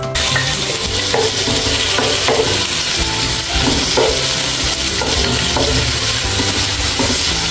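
Tomatoes sauté in a hot pan for a laswa dish, a steady close sizzle running throughout with a spatula scraping and stirring in loose repeated strokes.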